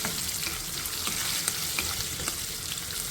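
Red and green chillies frying in a pan of hot oil, a dense continuous sizzle with faint crackles and stirring, close up and without voices.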